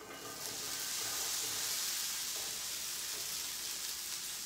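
Okra frying in a hot pan gives a steady, bright sizzle that holds evenly throughout, close and fairly loud, with no talking over it.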